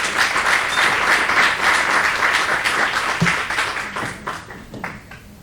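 Audience applause at a design association's general assembly event in Spain, a steady dense clapping that holds for several seconds and then thins out toward the end.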